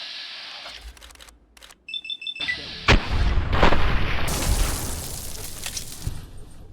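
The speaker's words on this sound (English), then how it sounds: "These laser guns are cool." Laser guns fire in Fallout New Vegas, a few sharp electronic blasts and bursts rising into a loud, sustained roar after quieter game sounds at the start.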